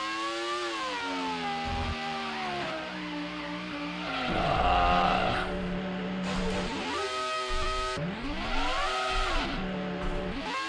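Race car engine from the Grand Prix 2 video game at the Adelaide Australian GP, whining and shifting pitch as the car spins, with tire squeal and revving rising and falling, close and steady, no talking.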